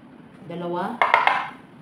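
All-purpose flour dough for dates chapati is mixed in a bowl, a soft tonal scrape followed by a few quick, bright clinks of a utensil against the bowl, close and moderately loud.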